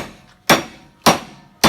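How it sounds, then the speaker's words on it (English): An axle swung as a hammer drives a U-joint cap into a front axle yoke, giving three sharp, loud metallic strikes at an even, steady rhythm, close by with nothing else heard between blows. "the axle itself can actually make a fine little hammer"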